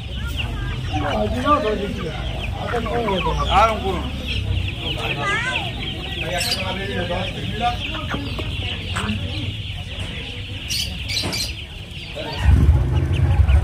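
Roosters and hens cluck and squawk repeatedly throughout a busy poultry market at Nepalgunj, the bird calls steady and close, with a deeper low rumble joining near the end.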